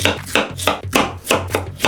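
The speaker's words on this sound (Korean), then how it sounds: "감자는 우선 껍질을 깎고 빨리 삶아질 수 있도록 작게 잘라줬습니다" A knife chops peeled potatoes into small pieces on a cutting board, about seven evenly spaced crisp thunks in quick rhythm, close and clear with no talk.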